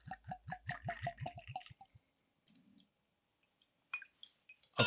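Cask strength bourbon poured from a bottle into a cocktail glass, a close rhythmic glugging burst that stops quickly, followed by faint small clinks.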